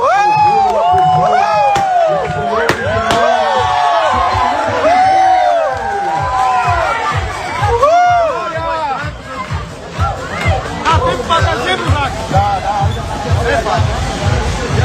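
A crowd at the opening of a training space breaks into loud applause and cheering, with whoops, whistles and shouts over rhythmic clapping and a babble of voices throughout.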